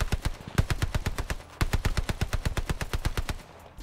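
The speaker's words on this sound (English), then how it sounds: "Here's the Owen gun." The Owen gun, a submachine gun in Call of Duty Vanguard and Warzone, fires two fast, steady bursts of sharp, evenly spaced shots with a brief pause between them, close and alone.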